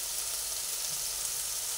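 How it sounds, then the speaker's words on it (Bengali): Spice masala for a kofta curry frying in a pan while being stirred, a steady, fairly quiet sizzle running evenly throughout with no voices. "ভালোভাবে নেড়ে করে ভেজে নিয়েছি মশলাটাকে"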